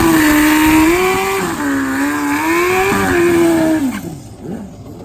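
A Hayabusa-powered drag racing motorcycle on a converted KZ chassis roars at full throttle, a loud sustained engine howl rising and shifting in pitch before fading as it pulls away.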